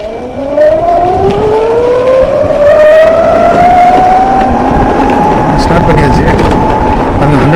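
An Ather 2.9 kW electric scooter riding on the road during a range test, a loud rising whine of the motor over steady wind and road rumble, close and continuous throughout.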